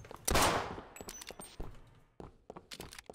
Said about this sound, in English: Come to sounds of gunfire.